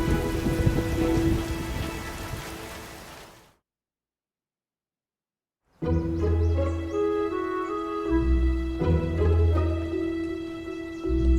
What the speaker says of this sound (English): Looks like we got a bit of rain, huh?